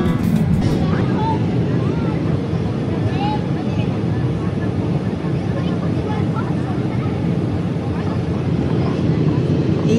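Airplane cabin noise during a Stockholm to Dubai flight shortly before landing, a loud, steady low engine roar filling the whole stretch, with faint voices underneath.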